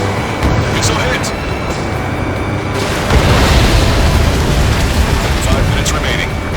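Missile explosion in the jet combat game Ace Combat 7: Skies Unknown, a loud rumbling boom that swells midway and rolls on over constant engine roar, with radio voices talking.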